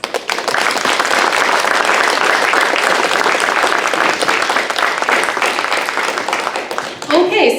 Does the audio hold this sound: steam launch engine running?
no